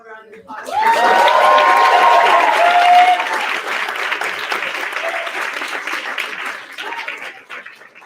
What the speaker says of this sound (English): Can we do one more round of applause?